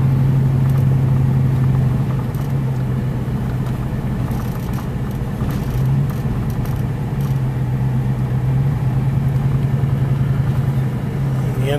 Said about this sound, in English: Iguala Tuxpan bus.